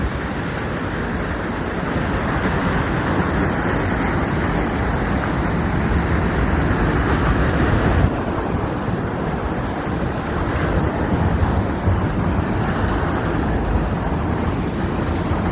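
Fast-flowing water in the Upper Ganga Canal at Sanota, Bulandshahr, a loud continuous rushing roar close by, steady throughout with no talking.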